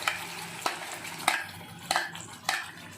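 Cumin seeds and a ground masala paste of onion, tomato and clove frying in a pan, with a steady low sizzle broken by five sharp scraping stirs at regular intervals, close and fairly quiet.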